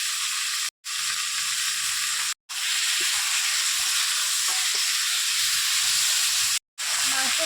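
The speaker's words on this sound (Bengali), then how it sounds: "মাংসটাও দিয়ে এর মধ্যে ভেজে নেব" Mutton sizzles and fries with turmeric in a pan, a loud, steady hiss broken by a few brief pauses, with faint stirring scrapes underneath.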